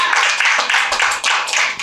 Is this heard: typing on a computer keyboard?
no